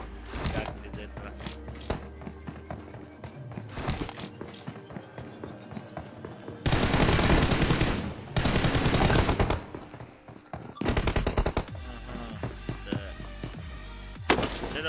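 Pistol gunfire in the PUBG Mobile shooter during a team deathmatch tournament match: several loud, dense bursts of rapid shots, with quieter game sounds between them.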